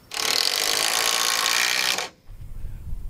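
A power tool driving screws into 2x6 wood framing on a gable end runs loud and steady for about two seconds, then cuts off, leaving low rumbling handling noise.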